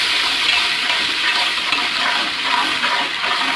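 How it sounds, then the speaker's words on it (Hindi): Masala frying in a pan for Kashmiri daal, a loud, steady, close hiss of sizzling oil that holds even throughout with no voices. "जैसे ही हमारा ये मसाला भून जाएगा हम इसमें दोनों दालें ऐड कर देंगे"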